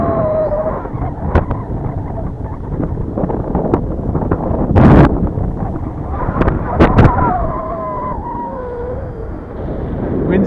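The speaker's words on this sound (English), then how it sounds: "The wind's actually getting a little aggressive" Wind gusts buffet the microphone at an RC flying field during the first flight of an Avios Grand Tundra model plane, a steady rough roar with louder bursts, with people talking over it.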